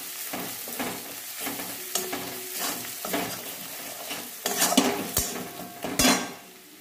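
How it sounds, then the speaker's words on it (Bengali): Cumin and chilli powder stir-fry with salted onions in a pan on a rooftop, a close sizzle under repeated metal spoon scrapes and clanks that grow louder toward the end. "মশলাটা কষা হচ্ছে"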